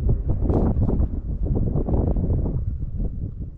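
Wind buffeting an outdoor microphone, a steady loud low rumble lasting throughout with no other sounds standing out.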